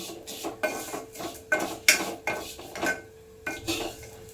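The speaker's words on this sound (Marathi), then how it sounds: "हे एवढे ड्राय ड्रायफ्रूट तुपात असं परतून घेते" Dry fruits being roasted in ghee in a pan, with about eight distinct metallic scrapes and clanks of a spoon stirring against the pan over a faint sizzle, close and fairly loud, no voices.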